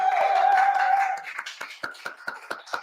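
A live studio audience breaks into scattered clapping, a handful of separate sharp claps spaced irregularly after a sustained voiced sound at the start.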